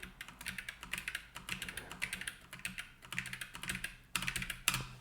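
Fingers tap briskly on a computer keyboard, close and fairly quiet, in irregular bursts of clicking keystrokes with short pauses between runs.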